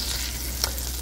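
Butter with cinnamon sticks, cloves and crushed cardamom sizzles in a pan on the hob: a steady, close frying hiss with one small pop midway, and no talking.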